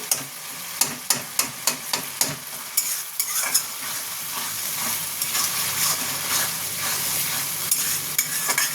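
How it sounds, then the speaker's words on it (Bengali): Spice paste with tomato sautéed in a pan, opening with a run of regular sharp spoon knocks against the pan, then a continuous sizzle with scraping stirs. "মশলাটা একটু ভালো মতন কষে নেব"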